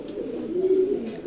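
Male grizzle and giribaj pigeons coo close by, one soft sustained throaty coo standing out over a low murmur of other birds.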